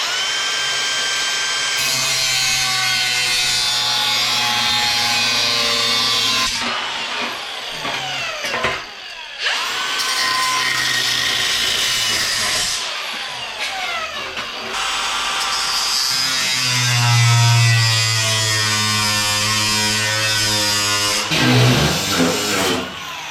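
A power tool cutting rusty sheet metal on the lower front fender of a 1957 Chevy, a loud, sustained high-pitched whine and grind with shifting pitch, broken by short pauses as the cut progresses.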